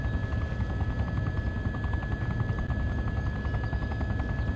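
A helicopter in Farming Simulator 15, running while submerged underwater, gives off a continuous whirring rotor and engine drone with a fast choppy pulse, steady and fairly quiet throughout, with no voices.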